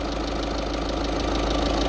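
A Volkswagen Ameo diesel car engine idling smoothly, a steady, even rumble held throughout at close range with no other sounds.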